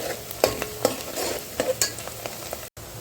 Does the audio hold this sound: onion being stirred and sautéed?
yes